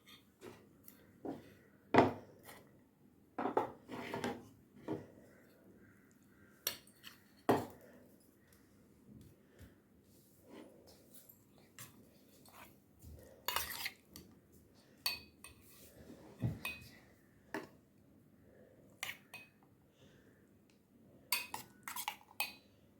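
Packing idli, lentil chutney and rice into a kids' lunch box: scattered clinks and taps of steel containers, lids and spoons, close and sporadic over a quiet kitchen background.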